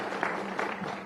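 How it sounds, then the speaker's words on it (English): Applause for a graduate at an event, a short burst of a crowd clapping at moderate distance, steady and fairly faint, lasting about a second. "Round of applause for Renee."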